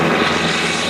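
A 2022 Kubota LX3310 compact tractor with a 4-cylinder turbo engine runs steadily nearby, a loud, continuous drone with no voices over it.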